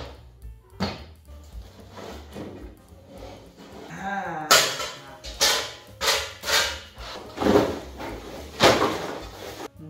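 Assembling a cabinet drawer up close: a series of irregular clunks, knocks and sharp thuds from panels being fitted and pressed together, loud and sporadic with short pauses between hits.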